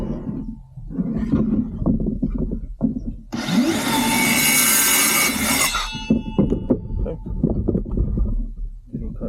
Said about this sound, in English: I know my saw and I can kind of feel for it, so I'm not going to change the blade. I'm just going to cut it.